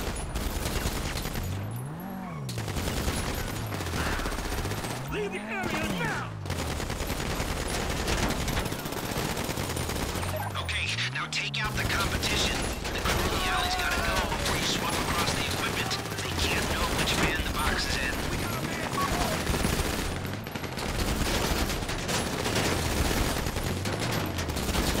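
Continuous rattling machine-gun fire and rapid shots fill a heist firefight in Grand Theft Auto V Online, dense and unbroken throughout, with repeated swelling engine-like whooshes underneath and talking mixed in.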